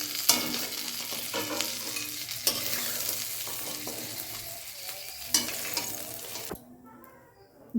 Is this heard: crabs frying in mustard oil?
yes